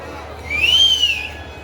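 A single clear whistle rises and falls over about half a second, standing out above a faint murmur of crowd noise.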